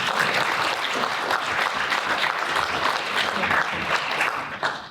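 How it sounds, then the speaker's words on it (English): Applause at a health-innovation awards program fills the room with dense, continuous clapping from many hands, steady and close before tapering off at the end. "Thank you, Frank, for clapping."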